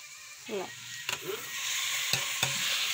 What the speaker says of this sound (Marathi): टमाटर घालून झाल्यावर तर छान परतून घेऊ